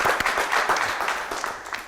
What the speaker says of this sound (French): On va applaudir encore notre candidate